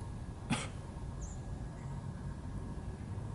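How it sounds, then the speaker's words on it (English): A single sharp, explosive sneeze bursts out near the start, followed by quiet background hiss. "Oh wait, I have to sneeze."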